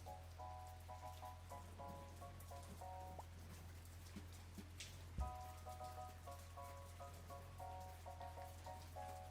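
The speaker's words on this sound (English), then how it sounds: "Why is it raining?" Rain in the cooking roguelike game Omelet You Cook, a quiet steady patter of falling drops over a low constant hum, with light chiming game music tones appearing on and off.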